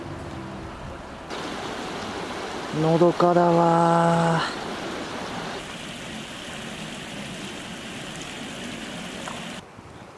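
Clean river water flowing steadily beside a roadside station near Ashigakubo, a continuous broadband rush heard from the outdoors with a brief tonal passing sound, and a voice speaks briefly over it.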